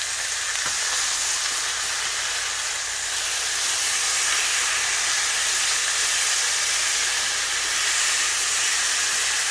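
Meat sizzling loudly and steadily in a hot pan after being flipped, a continuous dense hiss that holds even throughout, close up and alone, cooking for a creamy peppercorn sauce.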